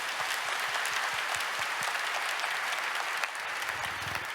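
Steady applause from a large audience at a Christian mission conference, even and sustained throughout, dense clapping with no pauses.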